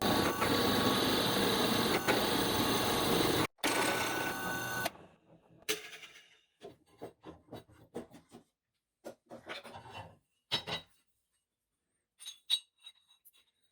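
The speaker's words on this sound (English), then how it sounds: "It looks like this 1/2 inch bit ought to make a hole big enough to hold this bolt" A loud, steady power drill whine boring a hole with a 1/2 inch bit for a bike rack bolt, a brief pause, a short second burst, then scattered clicks, clinks and handling noises.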